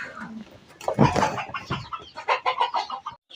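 Chickens cluck and chatter close by in quick, uneven bursts, with some busy rustling; several birds calling at once around a coop with chicks.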